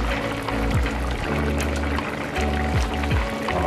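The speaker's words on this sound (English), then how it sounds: "potatoes are bubbling" Steady close bubbling and gurgling of water boiling with potatoes in a pot, continuous and fairly loud with a faint underlying hum.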